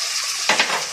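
Ground meat seasoned with salt and black pepper frying in a pan for chili dogs: steady sizzle with a brief stirring scrape and clatter midway, close and alone.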